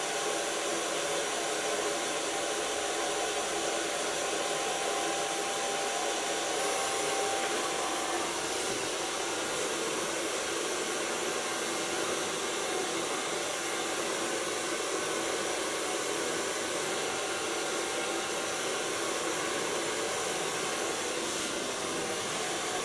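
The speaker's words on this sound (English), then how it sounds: "Color blow dry is of course with the use of my hands." A hair dryer blows steadily on short hair in a pixie cut, a loud continuous airy whoosh with a constant motor hum that persists without break, and no voices.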